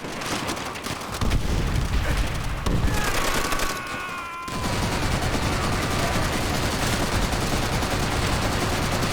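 A mounted turret machine gun in Call of Duty: World at War hammers out loud continuous bursts with heavy booming impacts, briefly pausing before the relentless fire resumes and carries on to the end.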